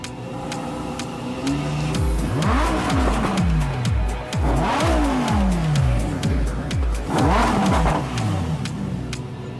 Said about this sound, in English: He starts the V10 engine, and after idling it for a bit, he floors the gas pedal.